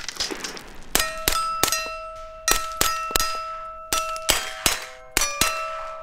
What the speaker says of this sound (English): hit a steel plate at 500 meters away with a Glock